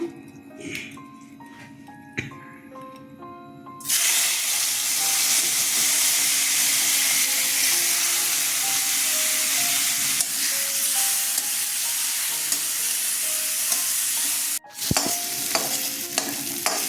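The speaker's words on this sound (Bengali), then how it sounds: "গোবিন্দভোগ চালটা ভেজে নেব" Gobindobhog rice fries in a little oil with salt and turmeric in a kadai, a steady loud sizzle that bursts in after a quieter stirring start and runs on with scraping, briefly dipping near the end.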